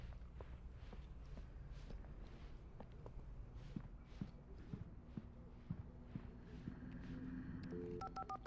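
A telephone dialed inside a gas station in the video game Alan Wake: footsteps approach, then a quick run of short dial tones near the end, faint and without talk.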